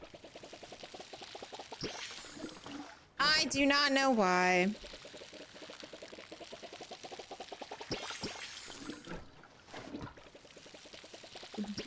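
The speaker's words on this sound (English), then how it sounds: "I love the noise this watering can makes." Watering can pouring water onto planted crops in the farming game Palia, a bright, bubbling pour lasting about a second and a half, loud against soft background music, with a person talking casually before and after.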